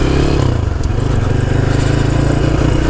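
Honda C90 motorcycle ridden offroad, its small single-cylinder engine thrumming in a loud, steady low rattle with wind buffeting throughout and no talk.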